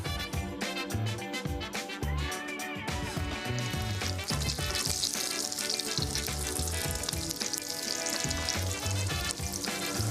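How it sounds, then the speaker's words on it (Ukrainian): Salty cheese pancakes (syrnyky) made with semolina and herbs, rolled in flour, fry in hot oil, giving a steady sizzle that runs under loud background music. "і смажте."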